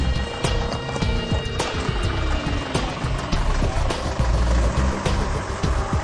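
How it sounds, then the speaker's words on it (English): A car tyre rolls slowly over a row of nails on pavement, producing repeated sharp clicks and knocks over a steady rumble of the rolling wheel, close and fairly loud. "Now watch as the tyre goes over those nails,"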